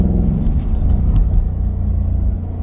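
Deep rumbling exhaust of a 2017 Mustang GT fitted with an H-pipe and axle mufflers, heard from inside the cabin as a loud steady low drone with slight swells in revs.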